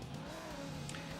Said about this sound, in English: You hear that rev up a little bit?